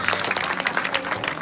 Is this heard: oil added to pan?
no